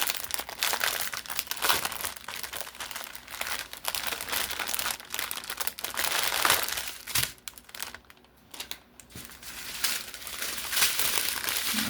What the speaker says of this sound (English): hold your ears for the crinkling